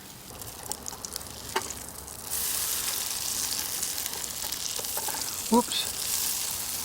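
Campfire muffin batter frying in a pan with too much oil, a steady broadband sizzle that swells and stays loud after a couple of seconds, with a brief voice exclamation near the end.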